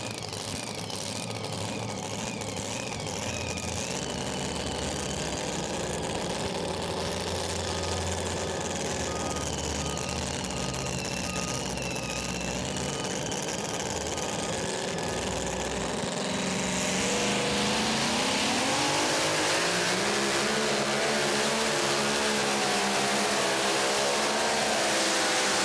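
A Chevy pulling truck at a super nationals tractor-and-truck pull roars at full throttle, loud and sustained, its engine pitch sweeping and climbing toward the end with a steady crowd-like wash underneath.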